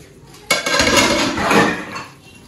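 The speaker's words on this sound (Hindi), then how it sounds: "आधे बर्तन गंदे निकल गए" Dishes, pots and pans being washed at a home sink, a sudden loud clatter of metal and glass clinking together over running water, then tapering off.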